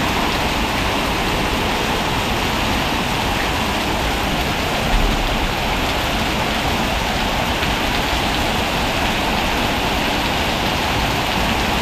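Heavy rain pours steadily at Pha Chang cave in Laos during the rainy season, a dense, even hiss of water hitting surfaces that holds at the same loudness for the whole stretch, with no voices.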